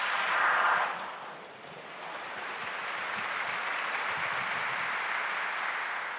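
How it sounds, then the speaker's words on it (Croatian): An audience at a Bible lecture breaks into applause, a dense, sustained wash of many hands clapping that starts strong, dips briefly, then holds steady and fairly loud throughout. "Aplauz."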